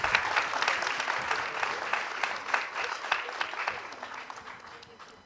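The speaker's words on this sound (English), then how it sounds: "Please keep the applause going." Applause from a conference audience during an on-stage felicitation ceremony, moderately distant clapping that gradually fades, with a voice faintly present under it.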